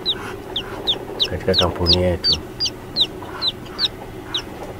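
Chickens at a duck and chicken farm in Tanzania give a run of short, regularly spaced clucks, close and clear, while someone speaks over them for a moment.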